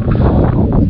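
Steady, loud wind rushing and buffeting across an open space, a continuous broadband roar with no voices.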